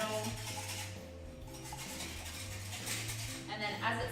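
A whisk scrapes and clinks steadily against a pot of lemon tart filling heating gently on a burner, continuous close metallic stirring with occasional sharper taps.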